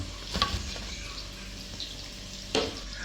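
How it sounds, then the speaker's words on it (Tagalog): Hotdogs frying in a pan on a home stove, a steady soft sizzle with a couple of louder pops and clatters of the pan, close by and without talk. "Prituhin na natin."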